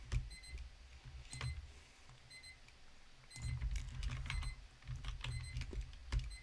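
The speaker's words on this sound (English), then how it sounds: "I don't know what the hell that beeping is." Unidentified electronic beeping during a Minecraft gaming session, short repeated high bleeps in small clusters over a low rumbling hum, faint and somewhat distant.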